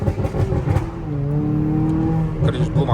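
A Chevy Malibu engine revs hard after a downshift, its note climbing and holding in a loud strained whine inside the cabin before dropping, with voices talking over the start and end.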